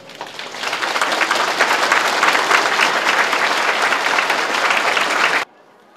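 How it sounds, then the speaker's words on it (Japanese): Dense, sustained applause from a crowd of about a thousand townspeople at the closing ceremony of Fujimaru, a 122-year-old department store in Obihiro, filling the hall steadily before cutting off abruptly near the end. "会場からは惜しみない拍手が送られました。"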